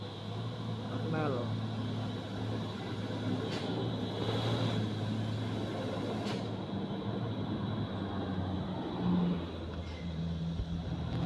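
Fuso truck grinding up a steep incline, a steady low diesel drone with a continuous hum, mid-distance, while a voice talks over it.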